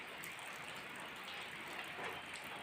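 Steady rain falls on a home courtyard after a night of heavy rain, a dense, even hiss that stays constant and fairly loud throughout, with no voices.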